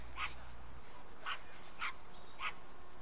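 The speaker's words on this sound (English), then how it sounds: "Bark, bark, bark." Four short, evenly spaced yips from a small pug dog in Grand Theft Auto V, clear over a steady background hum with no talk.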